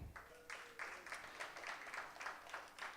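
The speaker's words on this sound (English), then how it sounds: "Give them a round of applause." An audience at a local arts showcase applauds, a dense ongoing patter of clapping heard from within the crowd.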